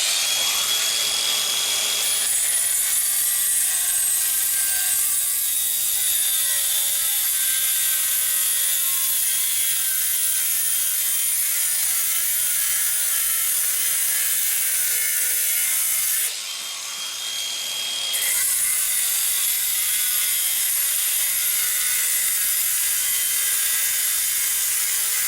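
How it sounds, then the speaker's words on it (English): A power cutter grinds through a swimming pool wall, a loud, harsh high-pitched screeching whine that runs continuously, dropping out briefly once before resuming at full intensity, close by. "Okay, now I'm ready to cut the wall."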